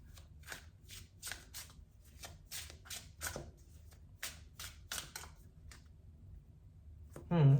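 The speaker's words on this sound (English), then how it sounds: "I think I need to shuffle that again." Tarot cards are shuffled in a quick series of crisp riffling bursts, close up, with a short pause before a louder rustle at the end.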